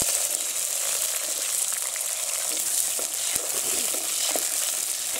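Small onions fry in oil with mustard and fenugreek seeds in a village-style tamarind curry, giving a steady close hiss of sizzling with faint stirring clicks and no speech.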